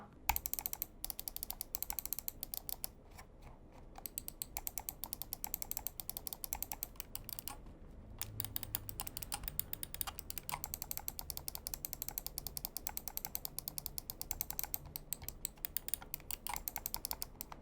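Rapid, steady clicking of Onikuma Sakura RGB gaming mouse buttons goes on nearly nonstop, with crisp close taps in quick runs and only brief pauses, and no voices.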